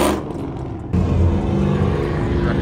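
Engine roars as a car does a burnout at a crowded car meet in Albuquerque, New Mexico, a sudden loud surge of revving and rumble after a quieter start, close and sustained.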